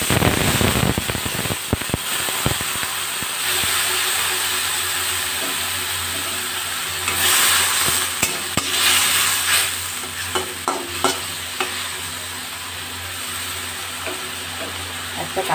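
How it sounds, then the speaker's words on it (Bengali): Water mixed with cumin powder and sugar hits frying okra in a pan, bursting into a loud hiss that settles into a steady sizzle, with occasional spatula clatter and scraping close by. "এবার সেই জলটা ঢেলে দিলাম।"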